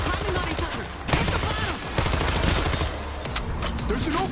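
Gunfire from the zombie shooter video game World War Z, a dense, continuous fusillade of rapid shots with sharp bursts, loud and sustained over game ambience while a voice talks.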